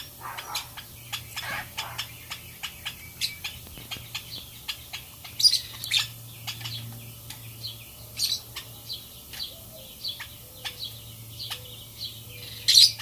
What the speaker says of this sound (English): Hey Mango, how are you liking the bird mister?